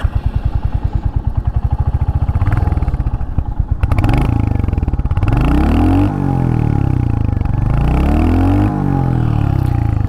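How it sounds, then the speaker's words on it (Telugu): A 2025 Royal Enfield Hunter 350 thumps through its exhaust in a steady, close idle pulse, then revs up and falls back in repeated swells of a deep, throaty engine note. "ఎగ్జాస్ట్ సౌండ్ విన్నారు కదా."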